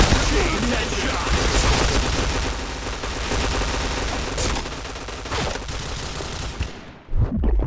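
Rapid gunfire bursts in a mobile shooter game, a dense continuous barrage of shots and booms, loud and close, with voices talking over the fight before it cuts off near the end.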